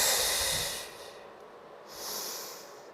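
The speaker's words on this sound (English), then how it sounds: "I want 5 to 6 good, slow breaths" Slow, deep breathing during a core exercise workout, one long airy exhale fading away, then a second breath swelling in, close and hissy with no talking.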